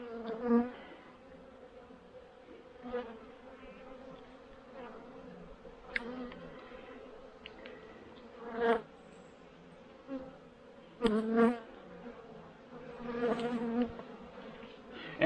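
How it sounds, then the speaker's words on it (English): Steady, close buzzing from many honey bees in an opened hive, a continuous hum with occasional louder swells and brief knocks. "There's some bees in there."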